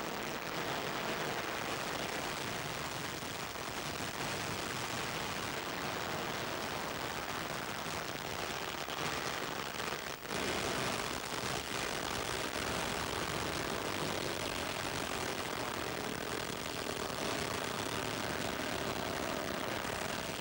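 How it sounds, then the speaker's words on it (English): An Ariane 5 rocket's main engine and solid boosters roar steadily after liftoff on the Galaxy XR launch in January 2000, a dense, continuous broadband rumble heard from a distance, with no talk. "All right, you see all the engines burning away there."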